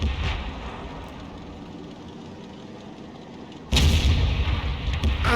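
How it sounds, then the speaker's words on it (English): A 152mm tank gun fires in a video game tank battle, a single loud, sudden boom cutting in after a low idling engine rumble, followed by sustained roaring reverberation. "that was a big hit with the 152mm gun on the 60 TP"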